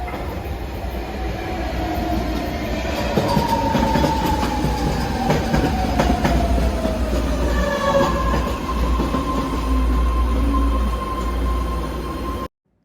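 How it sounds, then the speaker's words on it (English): A BART train rumbles into a San Francisco station with steady rolling wheel noise and a drawn-out, sliding brake squeal as it slows, loud and close. "Here, our train has arrived."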